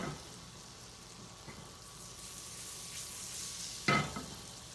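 A tablespoon of butter melts in a pan, giving a soft, steady sizzle and faint crackle throughout, with a brief louder clatter near the end and no talking.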